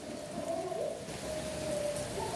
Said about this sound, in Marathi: हे बघा कंटिन्यू पाऊस चालू आहे नुसता.